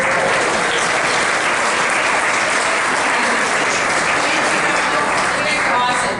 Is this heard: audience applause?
yes